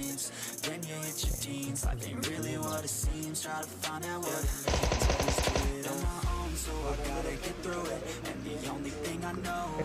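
Automatic gunfire from a mobile battle royale shooter, PUBG Mobile, crackles in a tight rapid burst mid-way amid a busy mix of game sounds and music, with scattered single shots around it.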